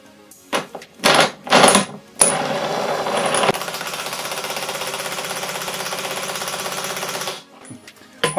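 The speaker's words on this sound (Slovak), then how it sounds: "Chcem skúsiť zaťahnuť skrutku M20, ktorá je na 30-kový kľúč a na 100 Nm." A Villager VLP 5720 cordless impact wrench drives an M20 bolt, a few short hammering bursts followed by about five seconds of loud, continuous rattling impacts that then stop abruptly.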